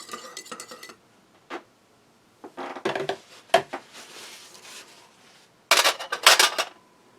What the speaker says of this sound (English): use the knife to give it a stir